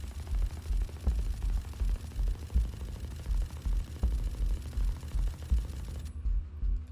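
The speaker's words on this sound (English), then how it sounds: "which is a fully automatic weapon with a fire rate of 10 to 13 rounds per second, and it increases as it fires." Rapid automatic gunfire from a fully automatic weapon in the shooter game Valorant, a steady stream of shots at roughly ten to thirteen rounds per second, loud and continuous before cutting off abruptly near the end.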